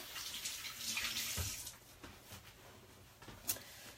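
Running tap water splashes over hands at a kitchen sink during keto brownie prep, a steady broadband wash for about four seconds with brief splashy bursts, close and moderately loud with no talking.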